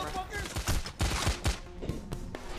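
Gunfire in PAYDAY: The Heist, a rapid series of close, punchy shots in irregular bursts with brief gaps between them, loud and sharp in a busy game scene.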